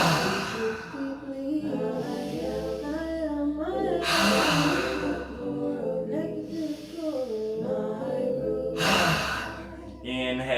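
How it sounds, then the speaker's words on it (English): Yoga breathing with a 'ha' exhale: two long, breathy, audible exhales close by, over a steady tonal background, with voice-like sounds between them. "breathing out with the ha exhale."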